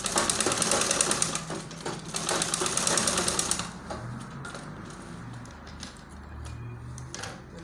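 Sewing machine stitching a baby girl's collar around onto the front fabric, its fast rapid rattle running for several seconds before stopping, followed by quieter handling of the fabric and occasional small clicks.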